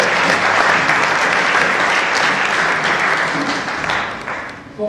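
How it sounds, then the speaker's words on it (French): An audience at a political gathering in front of the CENCO applauds the organizers and speakers, loud dense clapping from a large crowd that holds steady before thinning out toward the end. "je les invite à applaudir les organisateurs et les orateurs"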